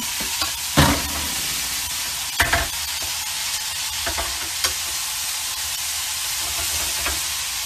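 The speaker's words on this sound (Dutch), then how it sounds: "Dus je moet de uien lichtbruin bakken." Onions fry in a pan with a continuous loud sizzle, broken by several sharp stirring scrapes and knocks against the pan.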